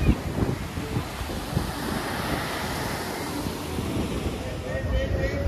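Sea waves below Aguada Fort in Goa, heard as a broad, continuous surf wash mixed with heavy wind buffeting on the microphone, fairly loud and steady, with a voice faintly present.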